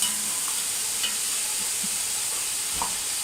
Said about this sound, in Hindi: नाज़रीन हमारा मसाला अच्छे तरीके से भून चुका है